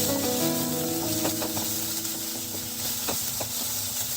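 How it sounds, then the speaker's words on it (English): Diced onions sizzle steadily in a hot pan over a high flame, a loud continuous frying hiss with a few soft stirring clinks, no voices. "After about a minute, adding the diced onions. Stir them once."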